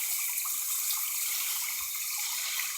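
Water gushing steadily out of a pipe pulled up near a swamp, a constant close hissing flow with no pauses and no voices.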